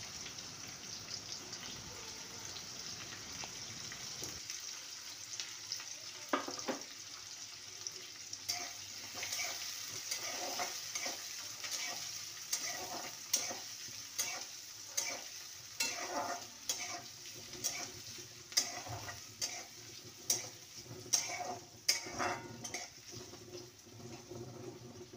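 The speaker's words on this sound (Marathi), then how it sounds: "आता राई फुटली का लगेच जिरं आणि हे कांदे हे मस्त गोल्डन ब्राऊन होऊ द्यायचे आहेत" Onions frying in hot oil with popping mustard seeds and cumin, a steady sizzle broken by repeated sharp stirring clicks of a spoon against the pan, close and fairly quiet, with no talking.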